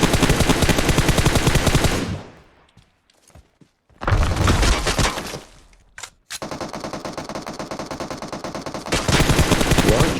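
Loud automatic gunfire in PUBG on the Erangel map, with long rapid bursts broken by a short quiet gap, a few single shots, then more sustained firing.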